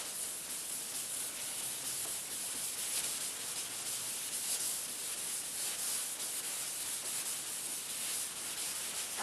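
Hand wet sanding with steady rubbing strokes, a continuous close hiss of abrasive paper across a wet surface that keeps an even level throughout, with no talking.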